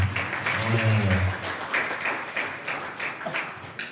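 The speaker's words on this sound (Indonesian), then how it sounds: "Kasih tepuk tangan buat kalian semuanya." Students and guests at a school table-manner event held in a hotel clap together, a brisk round of applause with a voice speaking over it at the start, fading in uneven bursts.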